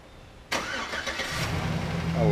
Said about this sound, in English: Let's remote start this thing.